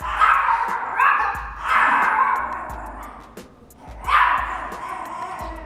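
A dog barks in a home kitchen, three drawn-out barks spaced roughly a second or two apart, loud and close, with small knocks and handling noises between them.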